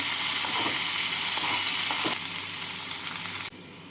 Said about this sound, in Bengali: এবার উচ্ছেগুলোকে লাল করে ভেজে নেব